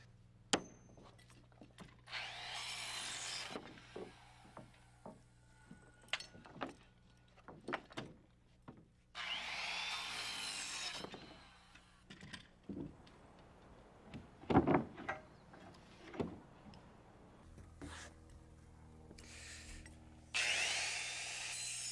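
Wood for house wall framing being cut by hand saw in repeated bursts of rasping strokes, interspersed with sharp taps and knocks of lumber handling, fairly close with no talk.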